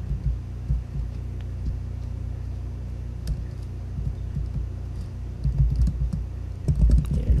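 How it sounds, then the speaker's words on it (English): Fingers typing on a computer keyboard, soft, scattered key taps over a steady low hum, growing a little busier toward the end, with no speech. "I'm just gonna type in some real quick"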